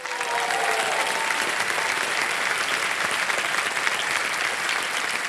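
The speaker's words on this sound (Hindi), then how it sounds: "ताली बज जाए।" Studio audience on the Hindi quiz show KBC breaks into warm, steady applause, dense clapping from a large crowd holding at an even level throughout with no speech.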